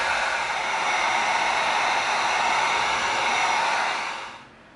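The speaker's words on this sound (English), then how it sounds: "Now we're going to come in with our heat gun." A heat gun blows hot air onto EVA foam with a steady, loud hissing rush for several seconds, then cuts off abruptly.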